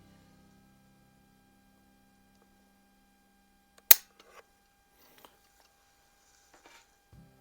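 A High Standard Supermatic Citation pistol from the early 1960s, dry-fired with a very light trigger: one sharp metallic snap in near silence, then a few faint small clicks and handling sounds.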